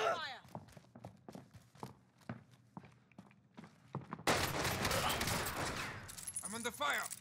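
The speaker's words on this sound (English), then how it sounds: "I'm under fire." Sharp, rapid gunfire and footsteps in the video game Call of Duty Warzone, scattered crackling shots that swell into a dense burst of firing, with voices talking over the action.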